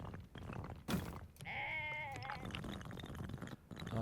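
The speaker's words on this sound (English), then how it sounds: "Oh, pissed off sheep." Angry sheep in the video game Tiny Glade lets out one long, wavering bleat in the middle, surrounded by soft thuds and muffled game sounds, fairly close and clear.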